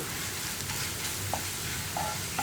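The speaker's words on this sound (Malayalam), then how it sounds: "ഇത്രയും ചേർത്തിട്ട് പൊടികളൊന്ന് കുക്കായി വരുന്നത് വരെ നന്നായിട്ട് ഇളക്കി കൊടുക്കുക." Kashmiri chilli powder is stirred in a frying pan for egg roast, giving a constant close sizzle with a few soft spoon scrapes.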